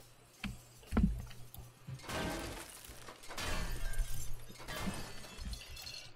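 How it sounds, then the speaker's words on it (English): Glass breaks in the survival video game 7 Days to Die, with sharp shattering crashes and scattered tinkling debris in several bursts over a rumbling background. "That's just me breaking glass."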